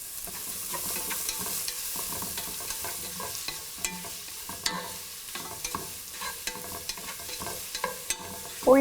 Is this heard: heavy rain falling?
no